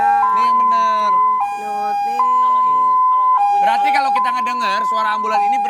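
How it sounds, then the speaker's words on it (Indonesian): An ambulance siren wails up close, its pitch stepping between two high tones over and over, with voices talking over it toward the end. "kalau kita ngedenger suara ambulan ini berarti ini"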